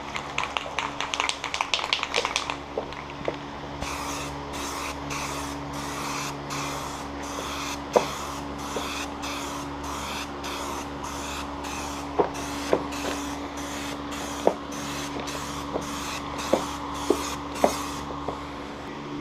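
Aerosol can spraying metallic paint onto car wheels: a quick series of short hisses, then repeated longer spray bursts with small clicks between them, close and moderately loud.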